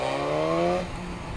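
Motorcycle engine, a Triumph Speed Triple RS or BMW S1000R, revving up with a rising then falling pitch, loud and close, in a single sustained burst.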